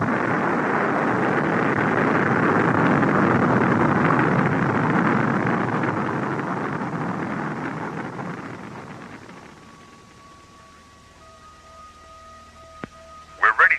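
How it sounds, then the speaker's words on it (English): A sleek white interceptor spacecraft in a radio drama blasts off with a loud, broad rushing roar that swells and then fades away, followed by electronic beeps. "the sleek white SET interceptor blasts off for Starlab"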